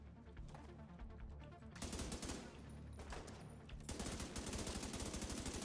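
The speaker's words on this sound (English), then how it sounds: "What the fuck are you shooting me with?" A turret in the shooter game The Division 2 opens up with rapid automatic gunfire, dense rattling bursts that grow heavier in two steps and stay loud and continuous at close range.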